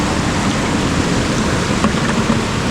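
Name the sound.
water poured from a big bottle into a water bottle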